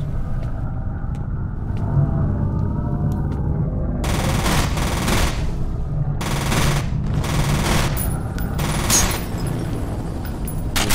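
Heavy gunfire from the F.E.A.R. video game, loud bursts of shotgun blasts and rapid shooting in several dense clusters over a constant low rumble, with no talking.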